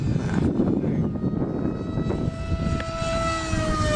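A model Gnat jet aircraft whines steadily overhead as it comes in to land, its engine tone gliding slowly downward over constant wind-like noise.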